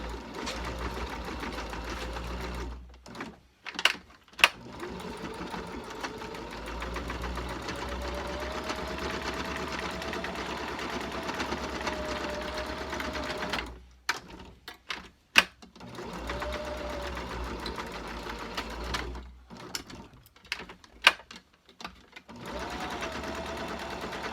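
A sewing machine stitches down the pleats of a cloth face mask in long steady whirring runs, close and clear, stopping briefly several times with small clicks and handling sounds between bursts.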